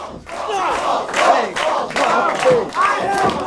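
A wrestling crowd at a civic center in Monroe, Michigan chants "Balls" for wrestler Balls Mahoney, repeated rhythmic shouted syllables from many voices rising and falling in waves, loud and close.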